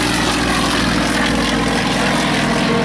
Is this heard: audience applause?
no